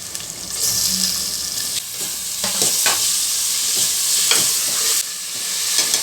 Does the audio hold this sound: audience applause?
no